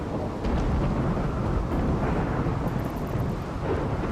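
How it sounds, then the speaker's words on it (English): A thunderstorm rumbles in Rimworld, a dense low roar of thunder and rain that holds steady and loud throughout, with no talking. "Thunderstorm, please go away. You are super loud."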